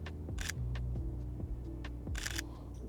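A Sony A7III camera shutter fires twice in a quiet outdoor nature-photography setting: two quick mechanical bursts about two seconds apart over a low, steady hum.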